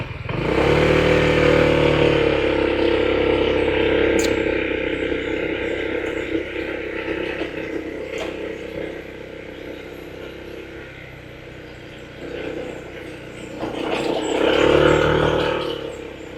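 A Honda ADV 160 scooter rides over a rough road, its engine droning steadily up close and then surging louder near the end, with rattles and wind noise and no talking.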